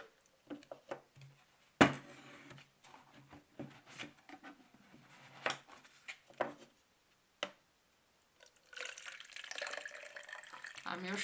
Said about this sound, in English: I'm sure you figured out I poured something to my glass.